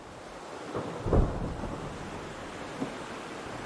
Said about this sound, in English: a violent storm strikes and blows the small fleet of ships completely off course